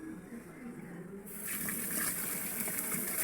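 Tap water gushes into a container while rice is rinsed for a rice cooker in a home kitchen, starting as a quieter trickle and then swelling into a louder, steady splashing flow.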